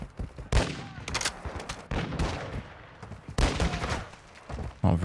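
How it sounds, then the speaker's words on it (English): Enemy shotgun blasts in Call of Duty: Warzone 2 DMZ, several loud, sharp booming shots spaced irregularly across the moment, each with a short decaying tail, close and with no talking over them. "they got a shotgun"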